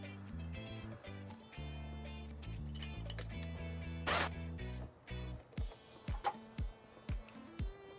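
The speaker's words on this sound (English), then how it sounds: "we're just gonna place a zip tie right here." A plastic zip tie is pulled tight around trailer wiring on a 2020 Subaru Impreza hatchback, giving a quick ratcheting zip close to the mic. Soft clicks and handling taps follow over steady background music.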